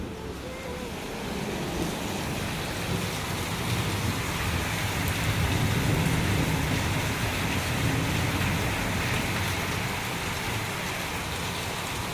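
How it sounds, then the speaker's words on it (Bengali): Heavy rain pours down in a dense, steady wash of drumming on surfaces, loud and close, lasting throughout with no voices over it. "কি বৃষ্টি হচ্ছে বাবারে বাবা,"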